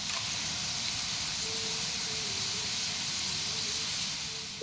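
Thin shredded potatoes deep-frying in hot oil, jhuri alu bhaja style, give a steady, even sizzling hiss that runs unbroken and fairly close, with no one speaking.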